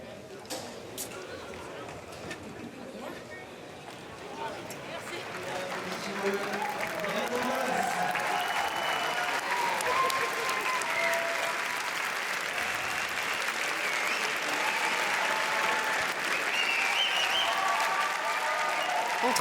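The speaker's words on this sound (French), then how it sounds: "a lot of applause" Sustained applause from a large crowd at the Cannes red carpet outside the Théâtre Lumière, growing louder and denser after a few seconds and continuing steadily throughout.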